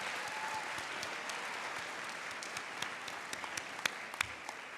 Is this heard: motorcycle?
no